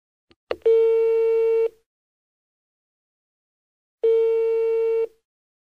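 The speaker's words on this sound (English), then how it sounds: "Your number's ringing now." A telephone ringing tone on a payphone call being connected sounds twice, each a steady buzzing tone about a second long with a long silent gap between, preceded by a couple of faint line clicks.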